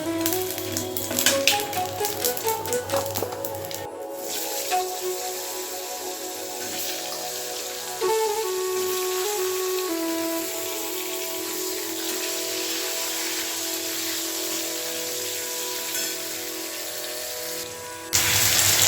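Potato pieces dropped into hot oil tempered with cumin, nigella seeds, bay leaf and dried red chilli: an initial loud crackle and splatter settling into a steady, dense sizzle that continues alone.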